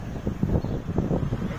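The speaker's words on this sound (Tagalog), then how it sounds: "pero malakas ang hangin" Strong wind buffets the microphone in gusty low rumbles on an outdoor trip up to Tayak Hill in Rizal, Laguna, loud and continuous with no voices.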